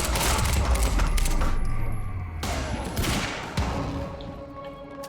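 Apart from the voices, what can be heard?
SMG gunfire in the video game Quantum Break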